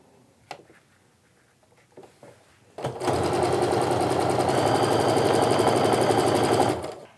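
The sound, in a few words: sewing machine sewing quilt block seam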